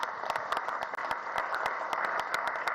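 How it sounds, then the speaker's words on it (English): Audience applause at a stakeholders' engagement meeting, a moderately faint patter of scattered hand claps continuing throughout the short stretch. "Please a round of applause for him."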